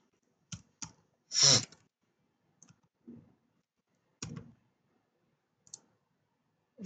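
Keystrokes on a computer keyboard entering a search term, heard as a sparse run of separate clicks, about eight of them, close and fairly quiet with pauses in between.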